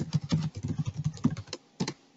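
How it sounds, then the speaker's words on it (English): A username is typed on a computer keyboard in quick, close keystrokes, a burst of rapid taps followed by a short pause and a couple more presses. "You type in your username"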